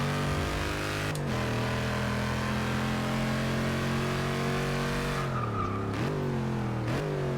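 Dodge Charger Hellcat engine droning steadily in Forza 6, with a loud sustained tone that dips and rises at gear changes near 1, 5.5, 6 and 7 seconds; continuous and close, with no talking.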